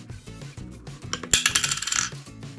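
Turkish coins, including a 25 kuruş piece, drop through a homemade coin sorting machine, rattling and clinking down in a quick metallic cascade of bright taps that rises and then fades after a brief rumble.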